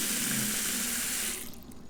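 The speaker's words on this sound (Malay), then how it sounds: "Tiba-tiba terdengar bunyi jirusan air dari dalam." Water splashes and runs steadily inside a room, a close broadband rush like a tap or spray that cuts off abruptly near the end, leaving a quiet tail.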